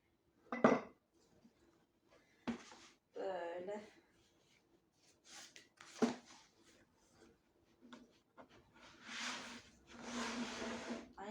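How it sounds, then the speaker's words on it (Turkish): A knife chops noodle dough repeatedly on a wooden chopping board in uneven strokes, with clinks and scraping between cuts in a quiet kitchen. "ekmek tahtam kesilmesin diye doğrama tahtasının üzerinde kesiyorum"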